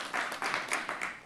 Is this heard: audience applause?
yes